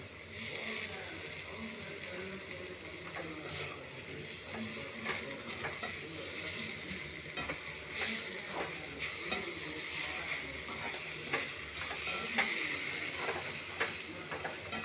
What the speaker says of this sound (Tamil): கொஞ்சம் சால்னா ஊற்றி நல்லா கிண்டி விடுங்க